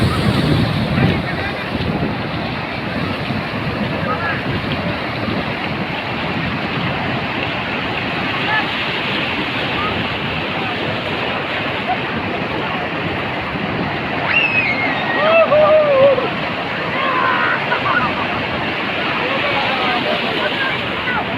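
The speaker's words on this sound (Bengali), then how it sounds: "আস্তে আস্তে আসলে সমুদ্রের এই যে ঢেউগুলো" Sea waves rolling and breaking on the shore, a steady broadband wash of surf with strong wind buffeting the microphone throughout, no speech.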